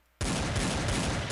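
A loud burst of rapid Desert Eagle pistol shots erupts after a brief quiet, blasts overlapping into a dense, continuous roar of video game gunfire.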